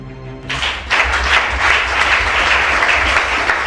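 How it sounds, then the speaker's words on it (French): A church congregation bursts into sustained applause after a brief low hum, the clapping loud, dense and steady to the end, with no voices standing out. "Acclamez Shana."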